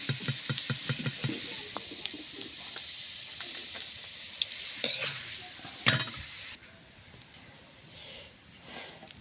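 Capsicum and green chillies hit hot oil in a pan for fried rice: quick spatula taps at first, then a hissing sizzle with scrapes that suddenly drops to a quieter simmer near the end.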